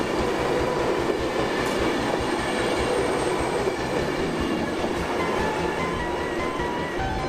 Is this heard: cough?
no